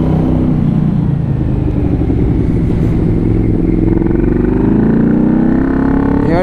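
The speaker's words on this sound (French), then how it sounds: "Bon je confirme c'est une moto pour rouler en balade." A 1989 Yamaha V-Max 1200 motorcycle roars up close while riding, its engine pitch rising steadily as it accelerates. The heavy, continuous exhaust note stays loud throughout.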